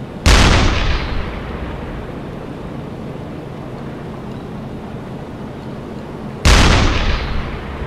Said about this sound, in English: let's get him on the deck gun, go take care of this guy who just refuses to sink, pump a couple of high explosive rounds into him